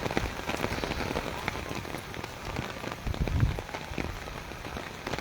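Heavy downpour in Taunsa Sharif, a dense, steady hiss of rain striking surfaces with scattered close drips and splashes, no voices.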